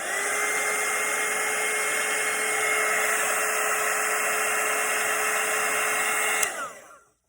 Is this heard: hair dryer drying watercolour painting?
yes